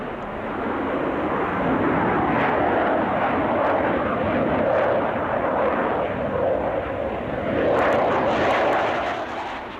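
A Panavia Tornado multirole jet flies past with a loud, continuous engine roar and rushing turbine whine that swells near the end, filling the whole stretch with no voices.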